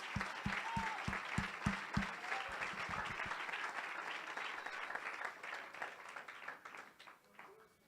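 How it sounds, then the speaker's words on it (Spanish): Congregation applauding in church during a sermon, a few crisp rhythmic claps at the start giving way to a soft steady wash of clapping that fades gradually, fairly quiet and distant. "Un aplauso al Señor."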